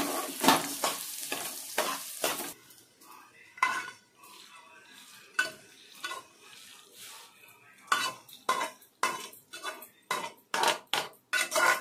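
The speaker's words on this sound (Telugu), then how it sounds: "ధనియాలు కూడా బాగా ఎర్రగా వేగాలండి." Coriander seeds and urad dal fry in oil in a pan while a utensil stirs and scrapes, with a soft sizzle under repeated sharp metallic clinks that come in quick, uneven bursts.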